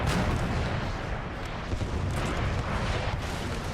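Artillery pounding a wooden fort in the Napoleon Total War video game, a dense continuous barrage of loud booms and crackling blasts layered over each other with no pause.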